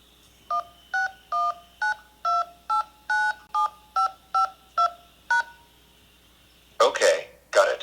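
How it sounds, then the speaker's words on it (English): A telephone keypad sends DTMF tones to enter a phone number into an automated XRP payment line: about eleven evenly spaced, crisp beeps in a steady rhythm, then a brief burst of voice at the end. "Please enter the merchant's XRP phone number, including the country and area code,"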